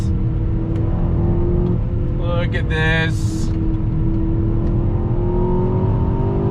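A steady, close engine drone from a 2021 Aston Martin DBX SUV with a short burst of crackling exhaust pops as it accelerates; a voice speaks briefly.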